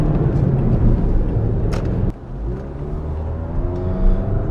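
A 2015 Toyota Corolla LE engine revs hard while merging onto a highway, its droning pitch climbing steadily after a brief dip, a continuous strained roar from inside the vehicle.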